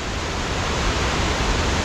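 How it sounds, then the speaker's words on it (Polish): A waterfall in Barranco del Infierno, Tenerife, roars as a steady, loud, close wash of falling water and spray, continuous and unbroken, with no voices. "To był wodospad."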